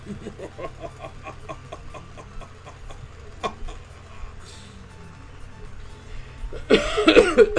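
A person coughs sharply once, then breaks into a loud burst of coughing near the end, close by.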